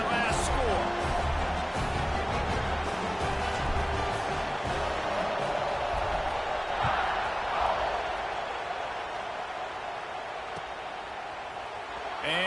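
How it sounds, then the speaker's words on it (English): A stadium crowd buzzes at an LSU football game, a broad steady roar that fades gradually toward the end, with a commentator talking over it. "this crowd is buzzing after that last score"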